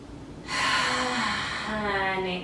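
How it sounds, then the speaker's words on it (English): Deep breathing in a beginner Ashtanga yoga class, one long, close and fairly loud airy exhale through the mouth after a quiet pause. "Take a deep breath in through the nose. Exhale through the mouth."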